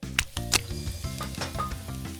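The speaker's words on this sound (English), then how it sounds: "Plop the veggies into a pan and stir fry." Vegetables stir-fried in a pan in a cartoon cooking game give off bursts of crackling sizzle over a bouncy, steady backing tune.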